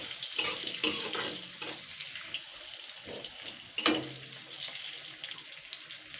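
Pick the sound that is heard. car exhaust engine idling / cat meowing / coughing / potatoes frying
potatoes frying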